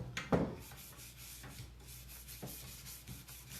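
A brush rubs clear wax over painted furniture in short, soft scrubbing strokes, close and fairly quiet, with one brief louder knock near the start and no talk.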